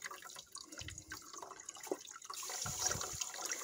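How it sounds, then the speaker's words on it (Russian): Quiet hissing and spluttering of water mixed with air escaping from a heating radiator's bleed valve, irregular gurgles and sputters up close. "Вот еще есть шипение. Это указывает на то, что воздух еще есть."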